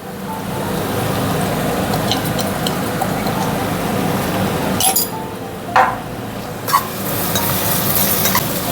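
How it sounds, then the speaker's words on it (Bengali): Onions with a pinch of salt fry in a pan for egg pulao, a steady close sizzle broken by a few bright clinks of a utensil against the pan, no speech. "পেঁয়াজটা ভাজার সময় আমি পেঁয়াজের মধ্যে একটু লবণ দিয়ে দিই তাহলে তাড়াতাড়ি ভাজা হয়ে যাবে"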